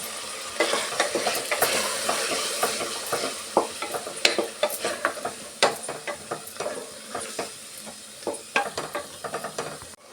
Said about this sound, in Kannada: ರುಬ್ಬಿರೋ ಅಂಥ ಮಸಾಲೆನ ಹಾಕ್ಕೊಂಡು ಹಸಿ ಸ್ಮೆಲ್ ಹೋಗೋ ತನಕ ನಾವು ಫ್ರೈ ಮಾಡ್ಕೊಬೇಕು